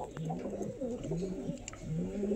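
An Abluck breeding pigeon pair coos in low, repeated throaty phrases, close and continuous over a soft room hum.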